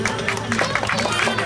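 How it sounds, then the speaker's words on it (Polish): A crowd at a cycling race in Nowy Targ claps and cheers in a brief, continuous burst of applause, heard from nearby with no clear voices. "Wielkie brawa dla naszych fantastycznych gentlemanów"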